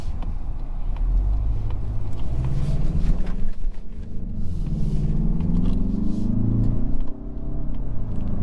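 A 2022 Mazda 3 Turbo Premium hatchback driving, a low, rumbling engine drone with rising pitch as it pulls through the mid-range, heard from inside the cabin with road and wind noise.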